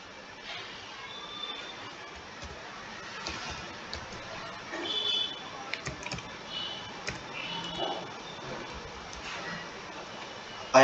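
Rapid typing on a computer keyboard while entering account details in Tally Prime accounting software, a dense continuous patter of close key clicks with a few louder taps and no speech.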